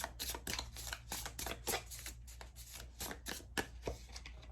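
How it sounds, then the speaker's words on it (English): A new tarot card deck is shuffled close up, giving repeated crisp riffling bursts of cards flicking together in an uneven rhythm. "Sorry, they needed a good shuffle."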